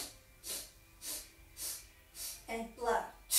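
Sharp nasal sniffs during Pilates breathing, a series of quick short inhales through the nose spaced evenly, growing louder and closer toward the end, with a voice partly mixed in.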